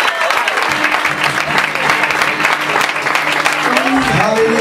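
A church congregation claps and cheers during a lounge night worship service, a loud continuous wash of hand claps and crowd voices with some shouting and a tonal hum underneath.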